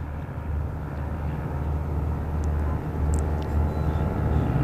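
A small airplane's engine drones steadily on a runway before takeoff, a constant low rumble that grows slightly louder as it powers up, with a few faint high clicks over it.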